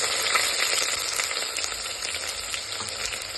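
Onion frying in oil in a pan tempered with mustard seeds, a steady dense sizzle running close and loud throughout with no pauses or voices.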